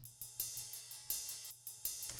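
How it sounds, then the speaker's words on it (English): A ride cymbal layer in a jazzy drum and bass beat, with shimmering strikes in a syncopated pattern, each decaying quickly. It plays alone and quietly over a low hum. "Then I also brought in a little bit of a ride."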